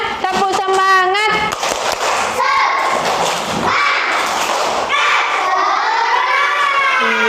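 Schoolchildren in a classroom clap and chant a 'tepuk semangat' cheer together, loud and close, with overlapping young voices, shouts and rhythmic hand claps filling the whole stretch.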